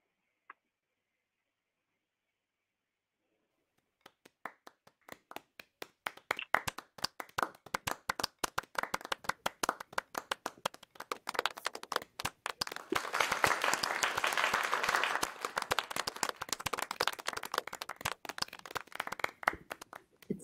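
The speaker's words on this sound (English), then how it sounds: "It's lovely, the sound of many hands, many virtual hands clapping." Many people clap in an online assembly, where scattered claps begin after a few seconds of silence and thicken into dense, crackling applause that stays fairly soft throughout.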